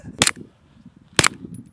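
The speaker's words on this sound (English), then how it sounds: "I can definitely say four pillows does silence a gunshot." A gunshot muffled by four pillows gives two short, sharp, dull cracks about a second apart. Each is brief and close, with faint room noise between them.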